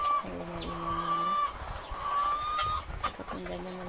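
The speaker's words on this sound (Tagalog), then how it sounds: "So pakinggan nyo na lang muna yung ingay ng manok." Nearby hens cluck in short bursts and a longer cackle, steady background hum underneath, no talking.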